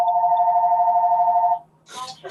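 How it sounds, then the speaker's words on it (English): A mobile phone rings with a steady electronic tone for about a second and a half during a Saturday night Lego stream, then stops as voices talk. "That's my phone."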